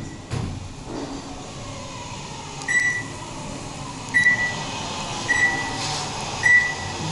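An Otis Gen2 high-speed elevator motor at a hotel hums steadily under a mechanical whir, with several short high beeps sounding at intervals over the drone.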